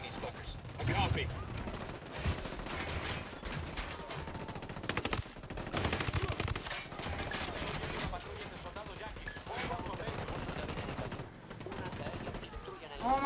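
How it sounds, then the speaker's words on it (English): Gunfire in the open-world shooter Ghost Recon Wildlands: repeated bursts of automatic fire and scattered single shots crackle through a chaotic firefight, loud and close, with excited voices talking over the shooting. "I'm shooting these fuckers."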